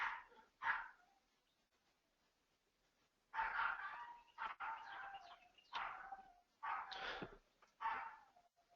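A dog barks in the background in short, separate bursts, about six or seven sharp calls spread across several seconds with quiet gaps between them, at moderate distance and with no talk over it.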